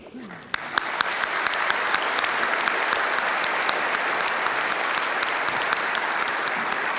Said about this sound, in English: And this is a good moment to practice your clapping for Faye.